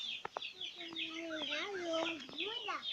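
Rooster clucking nearby in a continuous run of throaty, wavering calls over a few seconds, with a couple of sharp knocks at the start and no voices.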